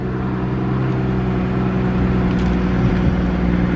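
An Infiniti Q50's engine idles steadily nearby just after starting, with a low, even hum and whir, no revving, continuous for a few seconds.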